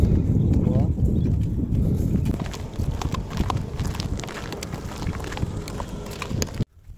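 A horse moves on hard ground, its hooves clip-clopping in a quick, close, irregular rhythm, loudest early and easing later, while people talk nearby before the sound cuts off abruptly.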